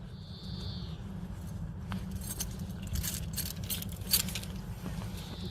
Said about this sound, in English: So I'm going in my pocket. Just car keys.